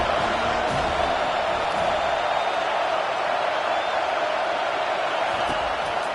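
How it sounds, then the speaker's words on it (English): A large football stadium crowd roars steadily for the UCLA defense on third down, a dense, loud wall of cheering and whooping with a broadcast announcer faintly underneath. "Decibels rising as the crowd gets behind this defense on 3rd down."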